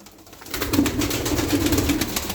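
Pigeons, Aksaray play pigeons, coo in low, soft, repeated murmurs, several birds close together against a steady background hiss.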